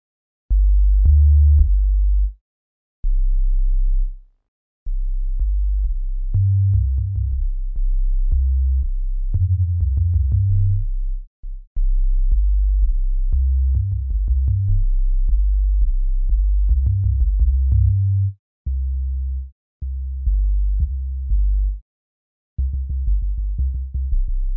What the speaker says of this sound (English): We have a lot of sub basses, and then we also have kicks.